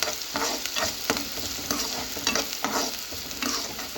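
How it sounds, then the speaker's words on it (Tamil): Chopped onions sizzle steadily in hot oil in a pan while being stirred for a Tamil-style okra stir-fry, with repeated scraping strokes of the spoon over a continuous close frying hiss. "இப்போ நல்லா கலந்து விட்டு நல்லா வெங்காயம் சவந்து வர அளவுக்கு வதக்கி விட்டுக்கலாம்"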